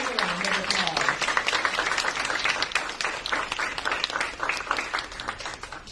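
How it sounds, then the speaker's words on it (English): Sustained applause from an audience at an evening entrepreneurs' gathering, dense steady clapping filling the whole stretch at close range, with a brief voice audible at the very start. "So give yourselves a round of applause."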